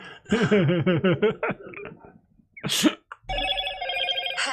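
A Motorola phone plays its ringtone: a short, bouncy synthesized voice-like phrase, a brief pause, a quick swoosh, then a bright electronic ringing melody that carries on to the end.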